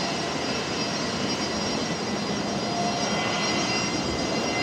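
A Fokker 100 jet in Southern Cross livery taxis in at Brisbane Airport late at night, a loud continuous engine roar and whine holding steady throughout.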